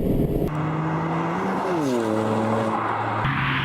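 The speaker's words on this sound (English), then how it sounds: "this is the Toyota Yaris GR with the sports exhaust" Engine of a Toyota Yaris GR with a sports exhaust, revving through rising and falling pitch sweeps with a throaty exhaust note, loud and close, shifting tone abruptly a couple of times.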